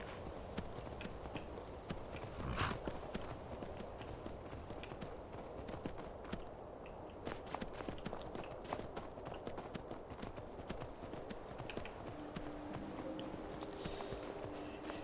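Horse hooves clop in a steady, fast rhythm as a rider travels in Skyrim, close and continuous for the whole stretch, with a few faint background sounds and no talk.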